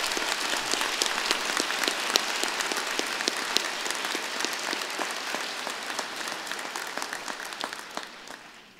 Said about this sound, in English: join me and the platform party in thanking them with a vigorous round of applause